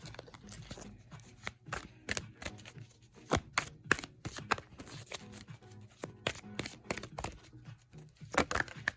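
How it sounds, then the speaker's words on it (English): Rapid, crisp riffling of tarot cards being shuffled, close up, in quick bursts with brief pauses between them; no talking. "I'm going to shuffle one more time before I actually start pulling."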